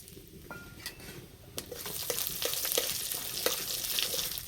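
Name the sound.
five-spice seeds and bay leaf sizzling in hot oil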